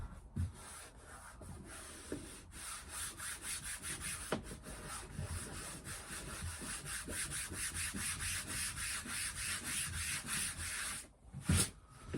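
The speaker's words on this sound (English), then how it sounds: "then I can sand it back a little bit" Wood is hand-sanded aboard a narrowboat, making a close, rhythmic rasping rub that repeats in steady strokes for about twelve seconds, with a couple of sharper knocks as the block is handled.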